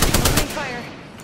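Automatic weapon gunfire in the Apex Legends video game, a rapid burst of loud, close shots at the start that quickly fades into a ringing decay with no talking.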